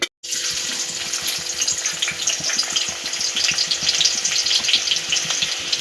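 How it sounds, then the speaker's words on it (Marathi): A ground masala paste of ginger, garlic and coconut sizzles loudly in hot oil in a pan for a Marathi shellfish curry, a steady close crackle that starts abruptly and continues without any voices. "तेल गरम झाल्यावर आपण त्याच्यात वाटण टाकूया"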